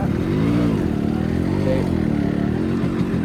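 A tuned, power-upgraded Yamaha RX motorcycle engine revs steadily up close, its low throbbing exhaust note rising and falling slightly with no talking over it.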